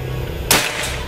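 A single sharp crack from a PCP Predator air rifle with a slug barrel and power plenum, firing a BST 16 pellet, cuts through steady background hum and then decays quickly.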